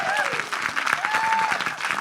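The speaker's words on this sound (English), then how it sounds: "Let's have a big round of applause" Live audience breaking into applause, dense clapping at steady strength with a faint whistle or tone drifting over it, no talk on top.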